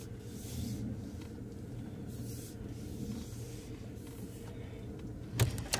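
A car shifted into reverse and driving off, a low steady engine rumble close by with a brief clunk near the end, and no talk.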